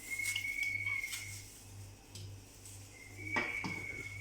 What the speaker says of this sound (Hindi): अब ये थोड़ा चलाते हैं ताकि मिक्स हो जाए